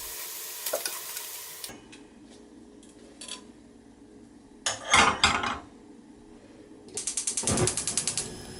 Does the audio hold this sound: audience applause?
no